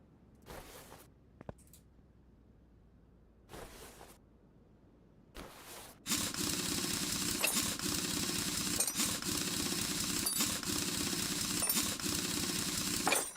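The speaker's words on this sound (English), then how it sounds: "I'll take the brake disc off" A car's brake disc is being removed beside a rough-looking caliper: a few short, separate metallic bursts come first, then a loud, continuous rattling clatter with repeated pulses that runs close to the end.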